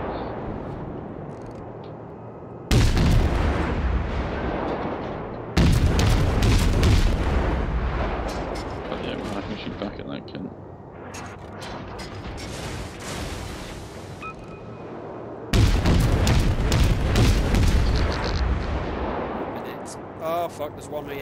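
The battleship Arizona fires its big guns in World of Warships, with three heavy booming salvos rolling out in long, loud blasts between stretches of lower battle rumble.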